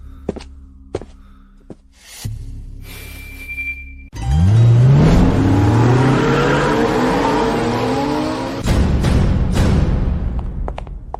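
A car, Mr. Miller's, pulls away: brief clicks and a quiet stretch, then a loud engine that revs up through rising gear pitches and holds a strong roar before fading slightly, with a few sharp knocks near the end.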